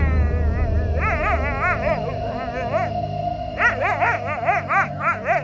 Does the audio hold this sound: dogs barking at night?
yes